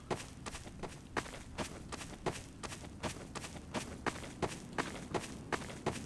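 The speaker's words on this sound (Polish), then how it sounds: "Tu ktoś biegnie." Running footsteps in Garry's Mod, a quick regular patter of about a dozen sharp steps over a low background rumble, with no talk.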